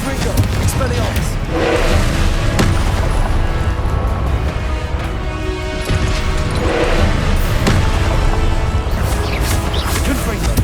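Confringo fire spells in Hogwarts Legacy burst and crash repeatedly in a busy combat scene. The loud, booming blasts come in uneven clusters and mix with other spell effects and shouting voices.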